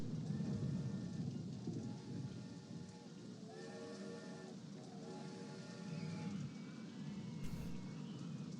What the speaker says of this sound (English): Oh, it's a thunderstorm even.